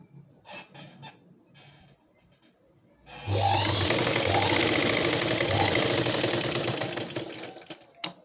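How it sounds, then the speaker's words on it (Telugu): An electric sewing machine stitches a blouse's shoulder seam, starting after a few seconds of quiet handling noises and then running as a loud, steady, fast mechanical whir before slowing at the end. "ఈ విధంగా షోల్డర్ దగ్గర 2 టైమ్స్ స్టిచ్చింగ్ చేసుకోవాలి."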